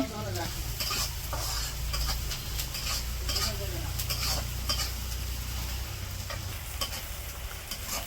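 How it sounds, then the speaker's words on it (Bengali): Onions and green chilies with garam masala fry in a kadai on a village kitchen stove, a continuous sizzle with frequent scraping and clinking stirring strokes and faint background voices. "ওইদিকে পেঁয়াজ কাঁচামরিচ দিয়া গরম মশলা দিয়া ভাইজা নিতেছে"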